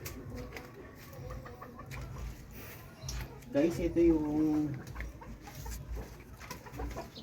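A Rhode Island Red rooster gives a brief cluck-like call amid someone talking, with scattered farmyard bird sounds in the background.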